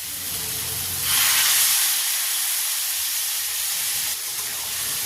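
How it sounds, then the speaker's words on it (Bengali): Water is poured into fried spices in a pan for a kundru (ivy gourd) curry, giving a loud, steady hissing sizzle that surges near the start and continues close up without any talking. "এবার এর মধ্যে দিয়ে দিচ্ছি জল।"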